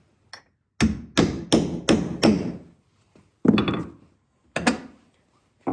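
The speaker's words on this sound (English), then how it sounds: "And now I take a hammer and give it a little knock" Hammer knocking on a wooden beam while building a mobile solar station from an old trailer: a run of five sharp, close wooden thwacks in steady rhythm, then a pause and two more spaced knocks.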